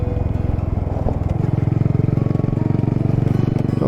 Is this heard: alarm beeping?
no